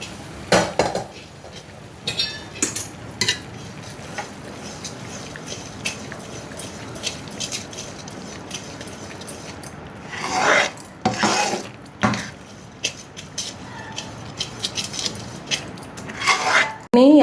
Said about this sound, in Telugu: ఎంత బాగా మరిగి ఇలా మనం తిప్పుకుంటే అంత గుల్లగా వస్తుంది మైసూర్పాకు అనేది